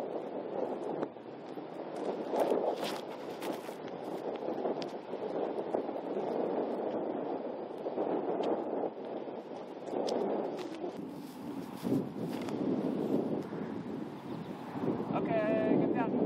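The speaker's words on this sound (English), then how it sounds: "this headwind, nothing's going anywhere. Pretty stiff headwind here." A stiff headwind blows into the microphone on an outdoor disc golf course, making a continuous low rumbling buffet that swells and eases throughout, with a few faint background sounds.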